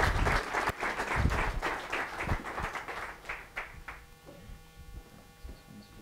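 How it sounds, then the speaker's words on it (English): A school auditorium audience at a TEDx event claps in a short burst that thins into scattered claps and dies away, with a low electrical hum underneath. "If we could all give another round of applause for Dr. Pampook"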